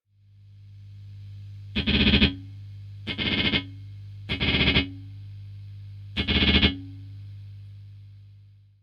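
Four muted, percussive dead strums on guitar ring out one after another over a steady low hum, each smeared by a washy, shimmering modulated reverb.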